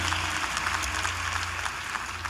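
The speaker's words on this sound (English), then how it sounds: "Let's give them a round of applause." A crowd claps steadily in a large room at a high school graduation ceremony, a dense sustained round of applause with no voices over it.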